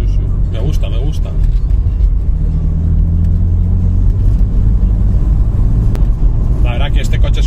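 BMW M4 sports car driving, a steady low engine and road rumble that continues throughout, with a few faint rises; people talk over it inside the cabin.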